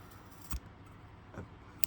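A wick being trimmed with scissors on a Protector Type 6 miner's lamp, heard as two or three soft, close snips in a quiet room, with no talking.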